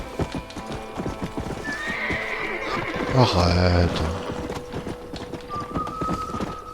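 Hooves of a horse in Red Dead Redemption clip-clop in a brisk, steady rhythm, with a loud whinny near the middle. Someone talks over it in French.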